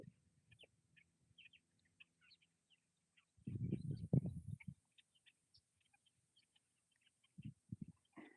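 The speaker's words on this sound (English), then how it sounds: "it's incredible how many birds you hear" Scattered bird calls around a lake during shellcracker fishing in Kissimmee, faint chirps and short calls spread across a quiet outdoor scene, with a few louder low thumps and rustles close by.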